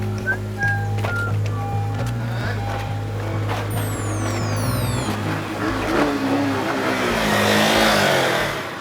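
Motorbike engine revving loudly, its throbbing tone stepping up and down in pitch before swelling into a broad, roaring blast near the end.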